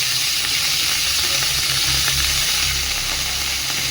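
Chopped chickpea greens hit a hot pan and sizzle steadily and loudly, a dense continuous hiss with faint stirring underneath.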